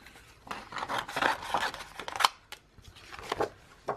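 Close, crisp snips of scissors cutting paper, several quick cuts in uneven bursts with short pauses between them.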